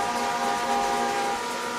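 A football crowd blows train whistles at a high school playoff game, sustained shrill tones over a steady wash of stadium noise with no voices.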